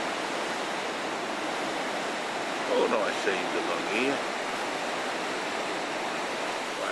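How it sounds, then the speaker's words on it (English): Surf breaks on rocks along a misty southeast coastline as a steady, hissing wash of waves with a brief swell in loudness midway, while someone speaks over it. "Waves crashing on the rocks."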